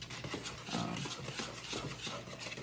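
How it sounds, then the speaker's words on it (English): Ice cream sandwich batter is whisked briskly in a bowl, making a soft, continuous scraping and swishing with a quick rhythm that stays faint throughout. "We're really just getting a solid whisk over here."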